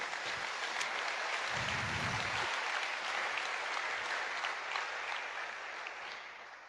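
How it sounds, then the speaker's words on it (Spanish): A church congregation breaks into thick, sustained applause offered to the Lord during a sermon. The clapping holds steady without speech, then gradually thins and fades near the end. "Puedes darle un aplauso al Señor por esto."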